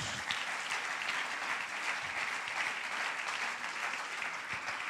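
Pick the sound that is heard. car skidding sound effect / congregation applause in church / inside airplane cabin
congregation applause in church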